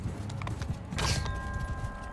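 Horse hooves clip-clop in the medieval combat game Mount & Blade II Bannerlord, a short run of uneven thudding footfalls under a brief metallic clash, moderately close, with no talk over them.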